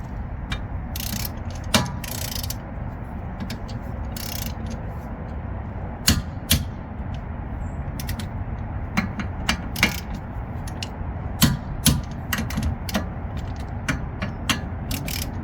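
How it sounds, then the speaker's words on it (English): A torque wrench tightening an adapter to 80 foot-pounds, making sharp metallic ratchet clicks in irregular bursts, some rapid clusters and some spaced, close and clear over steady background noise, without speech. "you're gonna wait for this clicking noise. You want to hear the clicking noise."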